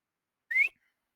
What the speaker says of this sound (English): You hear a whistle